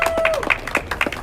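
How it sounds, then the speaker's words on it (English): Brief burst of applause from a crowd at an outdoor health care rally in Washington DC, with distinct rhythmic claps and a voice overlapping near the start. "Everyone give Christine a big round of applause."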